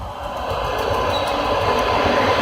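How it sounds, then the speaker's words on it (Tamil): MEMU train 66595 at Hosur station, heard as a steady loud rumble of a passing electric multiple-unit train with rail noise and faint squeals, continuous throughout. "இதுதான் 66595 மெமு ட்ரெயின்ங்க"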